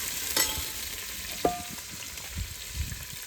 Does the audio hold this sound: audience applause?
no